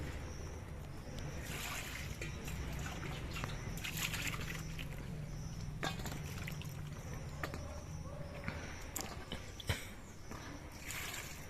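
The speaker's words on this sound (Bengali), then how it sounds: "এবার পটলগুলো ধুয়ে পরিষ্কার করে নিচ্ছি" Cut pointed gourd pieces are washed by hand in a bowl of water, giving a steady, close sloshing and trickling that runs throughout with a few sharper splashes.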